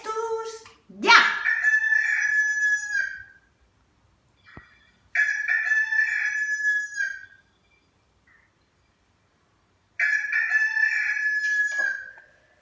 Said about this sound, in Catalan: És un gall!